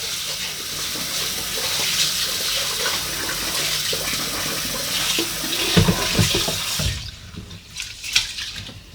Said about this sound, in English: we'll be washing our rice to remove any starch from it